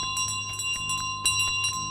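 A bell rings repeatedly in Untitled Goose Game, clear steady strikes with bright ringing overtones, sounding alone and fairly close.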